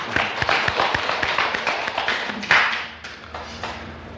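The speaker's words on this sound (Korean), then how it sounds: "우리 영광의 박수 크게 한번 하겠습니다" A church congregation claps during a worship service, a scattered burst of hand claps that gradually thins out and fades into quiet room tone.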